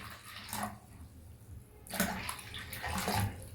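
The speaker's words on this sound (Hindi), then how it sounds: "1/3 हिस्सा हम नमक का तेजाब इसमें ऐड कर लेंगे।" Hydrochloric acid poured into a container for cleaning bathroom tiles, two bursts of splashing liquid with a steady rushing flow between them.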